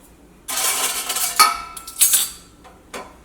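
A bowl is taken out and handled for mixing rava batter in a home kitchen, giving bright metallic clinks and scraping clatter that rise and fall over a few seconds, close and with no talking.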